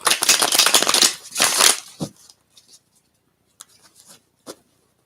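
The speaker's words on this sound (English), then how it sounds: "Do a couple final shuffles." Tarot cards being shuffled by hand, a dense papery riffling burst in the first two seconds followed by a few faint, scattered taps and slides of cards.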